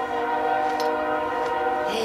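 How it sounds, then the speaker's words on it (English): Train horn sounding steadily in the Sacramento area, a loud sustained multi-tone blast with rail rumble beneath, continuous and fairly close throughout. "There's our Loomis train."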